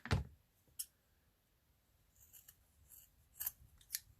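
Scissors cut through card and fibre, a sharp snip at the start followed by a few faint, scattered clicks and snips in a quiet room.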